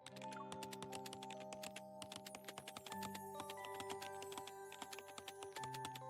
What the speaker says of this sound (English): Splendid fingers sweeping swiftly danced across the keyboard, producing a constant